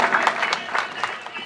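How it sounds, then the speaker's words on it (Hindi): Brief burst of audience clapping at a ward ceremony for new dispensaries in Ward 89, Srinivaspuri, loud and somewhat uneven, with crowd noise mixed in. "जोरदार तालियां बजती रहनी चाहिए"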